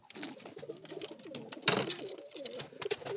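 Pigeons in a coop coo softly in repeated, low, throaty phrases at close range, mixed with light rustling and a few short flutters.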